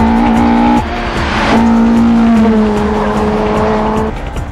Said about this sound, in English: The high-power Impreza is locked onto the Hachiroku's rear.